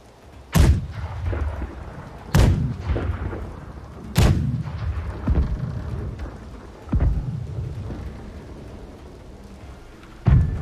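Ship's cannons booming from the left side in the naval game Blackwake, several heavy blasts a couple of seconds apart, each followed by a rumbling decay, loud and close with no talking.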